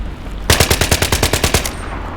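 Loud machine gun fire in Battlefield 3 gameplay, a single rapid burst of about a dozen evenly spaced shots lasting just over a second, close and alone.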